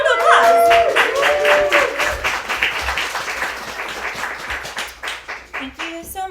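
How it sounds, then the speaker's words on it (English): Audience applause fills a room at an evening event at SMUSH Gallery, dense and steady at first and then thinning into scattered claps, with voices and cheering mixed in near the start. "Let's give a round of applause."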